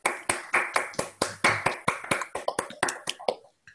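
Online participants clapping over unmuted microphones for a speaker at the close of a talk, a string of about fifteen sharp separate claps in a quick, slightly uneven rhythm, near and alone, ending abruptly.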